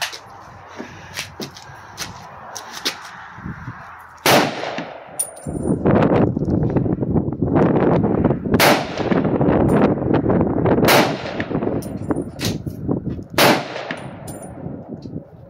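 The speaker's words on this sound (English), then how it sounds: "David with his M1 Garand" An M1 Garand WWII rifle fires outdoors in a slow series of five loud, sharp gunshots spaced a few seconds apart, each with a ringing tail, and no talk over them.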